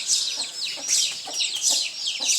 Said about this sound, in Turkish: Bugün sizlere ta tavuklarımı balkondan çekiyorum